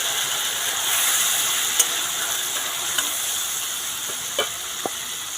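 Grated tomato is added to a hot pan with ginger and turmeric for a Bengali potol pasinda, giving a loud, continuous close sizzle and hiss with a few light clinks and scrapes of stirring.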